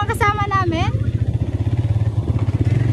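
A motorcycle engine hums steadily close by through a ride, its low pulsing drone running throughout while a voice speaks briefly at the start.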